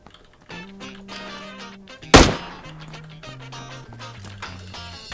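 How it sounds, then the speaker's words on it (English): One loud sniper rifle shot cracks out sharply in PUBG, a single isolated blast over a musical backdrop. "Still determined to kill him with my one bullet."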